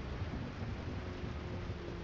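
Steady rain pours in a VR racing simulator during a historic race, a dense, even hiss with a low rumble underneath that holds at the same level throughout, with no voices.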